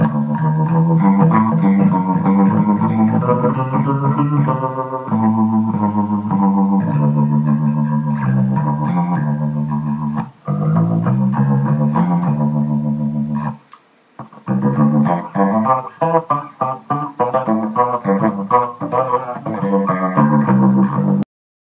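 Bass guitar, a JD bass, played through a Leslie pedal set to fast speed, giving a loud, continuous warbling tone with rhythmic note changes and a brief drop to near silence midway before playing resumes.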